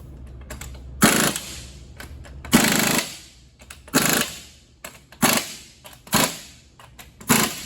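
A power tool fires off repeated short bursts while tightening the bolts on a wobbling wheel of a school bus conversion, about seven loud hits spaced roughly a second apart with brief quiet gaps between.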